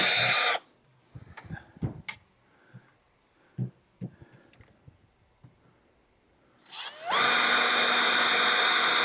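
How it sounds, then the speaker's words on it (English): Power drill pre-drilling holes in a PVC rack for RC aircraft fuselages, a loud steady whine of about two seconds at the end, with a shorter burst right at the start and quiet handling noises between. "Last thing I want to do is a little more pre-drilling."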